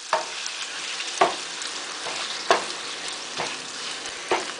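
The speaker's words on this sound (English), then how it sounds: "Listen to that sizzle." Steady, crackling sizzle of bacon frying in a hot pan, punctuated by a few sharp clinks and scrapes of a utensil, close and fairly loud.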